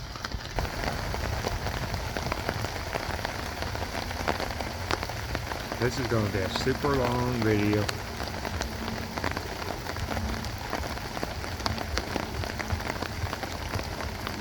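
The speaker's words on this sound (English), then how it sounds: "Oh, let's watch it rain for a few" Steady rain falls throughout, a dense continuous patter on hard surfaces, with a voice speaking briefly partway through.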